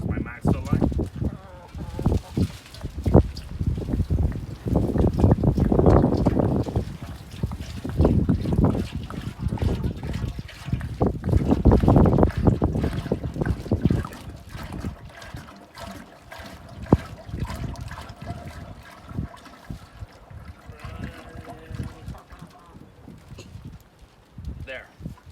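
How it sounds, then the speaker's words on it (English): Oil or liquid pours into a turkey fryer pot up to a marked fill line, a loud rushing, gurgling pour swelling in two long waves, with speech between and afterward. "I'm going to fill up my pot until my fill line that I marked earlier"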